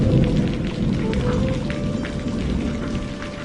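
Steady rain pours down in a cartoon story, a dense continuous hiss with scattered drop patters, moderately loud throughout and with no voices.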